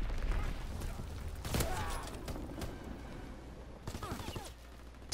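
Gunfire in a WW2 shooter video game comes as a loud burst near the start and a rattling cluster of shots toward the end, with quieter mechanical clanks and background noise between.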